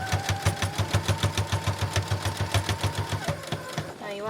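A sewing machine back-stitches lace on a child's fabric and ribbon corset top, giving a fast, even rhythmic clatter that runs steadily and close up before slowing at the end.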